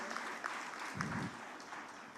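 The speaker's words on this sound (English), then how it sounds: "Big round of applause to the faculty members." Audience applause for faculty members at a 2024 orientation day, a steady, fairly quiet wash of clapping lasting a couple of seconds.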